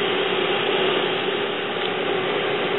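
An Epson printer fitted with a continuous ink supply system runs a head-cleaning cycle, giving a steady mechanical whir with a fine ratcheting texture that holds evenly throughout, with no voices.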